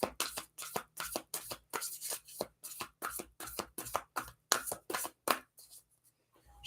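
Tarot cards shuffled by hand in a quiet room, a quick run of crisp riffling bursts in uneven rhythm, close and fairly soft, trailing off near the end.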